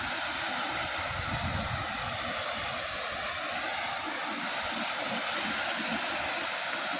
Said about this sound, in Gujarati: જો આ જે જંગલીનો ધોધ કહે છે ને